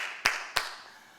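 Clapping during a Korean church Sunday worship service: two sharp, fairly quiet claps about a third of a second apart, with a faint room background and no voices.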